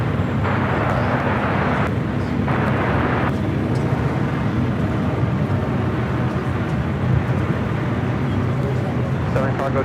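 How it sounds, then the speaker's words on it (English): A Delta A350 airliner taking off at LAX gives a loud, continuous broadband engine roar across the whole stretch, with a brief dip early on, and radio chatter and talk running over it. "Delta A350 now rolling down at 24 right"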